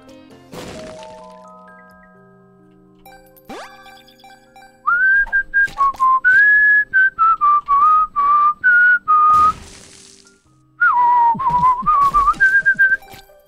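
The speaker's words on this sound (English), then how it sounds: "It's like when I whistle like that. It's really enjoyable" A person whistles a lilting tune in short phrases, clear and close, broken by a few sharp knocks and thuds from a game during a livestream.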